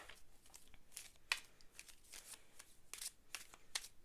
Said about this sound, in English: I'm such a messy shuffler.